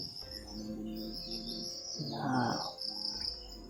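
A crow gives a short, harsh call outdoors, rising over a constant high buzz of insects and a few softer lower tones. The sound is faint and distant-seeming, with one brief caw standing out midway.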